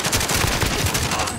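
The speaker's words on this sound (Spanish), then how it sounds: "Escucha esos tiros" Rapid automatic gunfire from Call of Duty: Modern Warfare rattles continuously, bursts of shots close and loud with a dense, steady rhythm and no talk over them.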